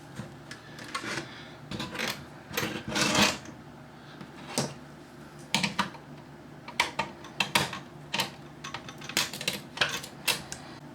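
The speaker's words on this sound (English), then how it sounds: "So it looks like to get the rest of the case off, I've got to take the nuts off here." Nuts being removed from the case of an Amstrad Sky+ HD satellite box: a series of close, sharp metallic clicks, ticks and rattles in irregular bursts, with brief scraping between them and no speech.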